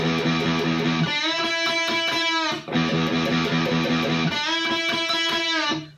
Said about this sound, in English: So usually the riff sounds like this.